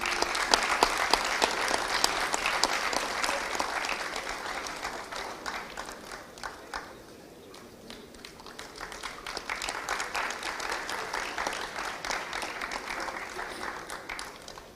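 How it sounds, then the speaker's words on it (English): Sustained applause from a conference audience at a plenary session, greeting a professor at a university hall; dense clapping throughout, dipping briefly in the middle before swelling again. "Please have a big round of applause."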